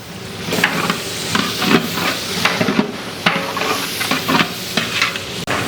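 Vegetables sautéing in oil in a large pot for wedding-style brinji rice, a steady frying sizzle broken by repeated scraping stir strokes of a ladle, close and alone without voices.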